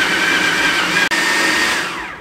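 Electric chopper whirring loudly and steadily as it chops chicken and bread for shami kabab, with a brief cut-out near the middle before the motor continues and tapers slightly.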